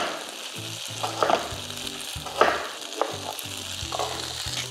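Broccoli tikka pan-frying until browned on both sides, a steady close sizzle with a few louder crackles and spatters, while a spatula stirs or scrapes the pan in short bursts; no voices.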